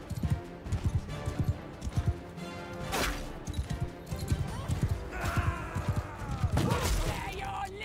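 Horse hooves clip-clop in a steady galloping rhythm in the medieval combat game Mount & Blade II: Bannerlord, fairly loud, with neighing, clashing and battle noise mixed in.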